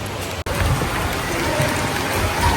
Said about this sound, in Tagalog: Umuulan na naman po.